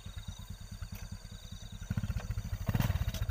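A motorcycle engine putters in a fast, steady rhythm near a narrow bridge, close and moderately loud, with the revs swelling briefly toward the end.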